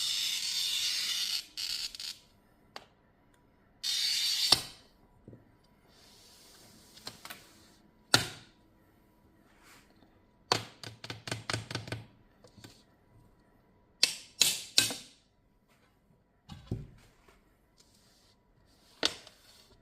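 A glass cutter scores a round mirror in short, dry scratching strokes, separated by scattered light taps and quiet pauses, all close and fairly faint.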